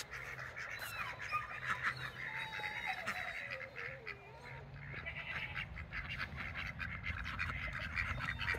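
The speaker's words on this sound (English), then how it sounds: "Look at these chickens." Chickens eating spent brewing grain cluck and squawk close by, over a steady low background hum, with scratching and pecking throughout.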